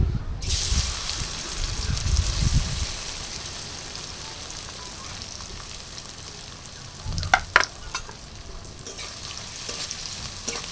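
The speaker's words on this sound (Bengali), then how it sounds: "পনিরগুলো দিয়ে দেবো তেলের মধ্যে" Paneer cubes drop into hot oil in a wok, setting off a loud burst of sizzling that settles into a steady, even crackle, with a few clattering stirs later on.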